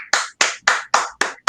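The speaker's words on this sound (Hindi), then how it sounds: "जोरदार तालियां योगेश सिंह जी के लिए" Applause for Yogesh Singh comes as a quick run of six sharp, evenly spaced claps. They are close and loud, with nothing else heard.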